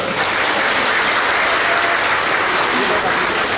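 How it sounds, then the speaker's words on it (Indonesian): An audience at a West Java government gathering with the provincial governor in Bekasi claps loudly and steadily, a thick, unbroken roar of applause. "tepuk tangan"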